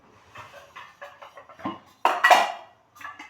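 A nonstick dosa griddle set down on a gas stove gives a sharp, loud metallic clatter and scrape mid-clip, following a run of lighter kitchen knocks and handling sounds, with no talk.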